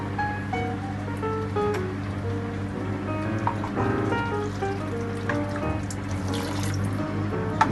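Water pours into a cooking pot of simmering tomatoes and onions, a steady continuous splashing and trickling that runs throughout at close range.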